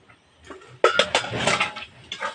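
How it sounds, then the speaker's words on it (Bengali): A metal pot lid comes off a cooking pot of vegetarian banana-flower curry in a village kitchen, a sharp clank followed by several clinks and scraping metal rattles, close and fairly loud. "দশ মিনিট পর ঢাকাটা সরিয়ে দিলাম"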